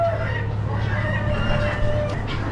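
Black Wyandotte bantam chickens at an Amish animal auction, with clucking and crowing calls over a steady background of crowd murmur.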